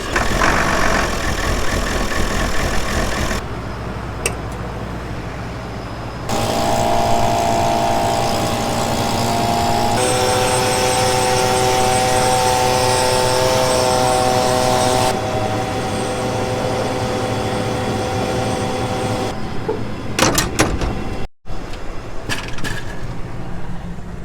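A steady tractor engine idles and runs for the whole stretch, a constant low rumble with a mechanical hum, fairly close, with a few brief clunks near the end.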